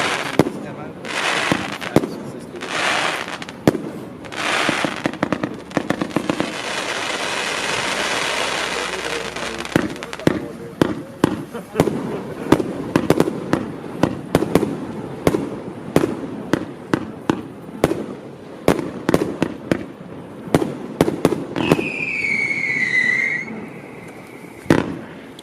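A Pyrotex Rose and Crown 65-shot fireworks cake with mixed 27mm and 20mm tubes fires a long run of rhythmic launch thumps and crackling bursts, loud and steady, with a whistling effect near the end.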